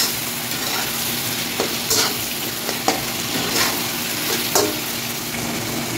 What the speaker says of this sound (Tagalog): Ayan, haluin natin ulit mga idol.